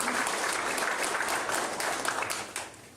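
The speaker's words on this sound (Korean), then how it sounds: "여러분 따뜻한 박수로 환영해 주시기 바랍니다." Steady applause from a seated audience welcoming introduced guests at a disability sports association policy workshop in Gyeongbuk, loud and continuous, then tapering off at the end.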